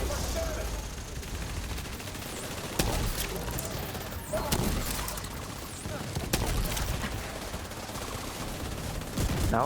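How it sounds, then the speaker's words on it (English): A rapid run of grenade blasts in a first-person shooter, sharp booming bursts scattered unevenly amid constant in-game gunfire and clatter, with a voice talking faintly underneath. "Just gonna toss a bunch of grenades."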